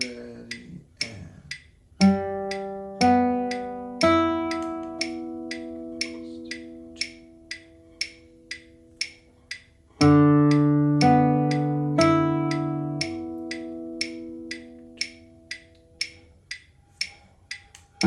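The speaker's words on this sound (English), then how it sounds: "Let's try this first arpeggio example together one more time." An introductory right-hand guitar arpeggio exercise of steady plucked chord tones, sustained notes ringing under a regular ticking metronome click, close and moderately loud.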